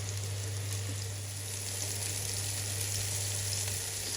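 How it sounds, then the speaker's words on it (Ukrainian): Steady, close sizzling of battered zucchini frying in hot oil, a constant crackling hiss with no voices. "наливаємо олію та смажимо кабачки до золотистої хрусткої скоринки з обох сторін"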